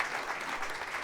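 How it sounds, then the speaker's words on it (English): Audience applause for music students at a jazz concert, a dense steady wash of clapping from a crowd with no gaps, heard briefly. "another round of applause for the absolutely extraordinary music students"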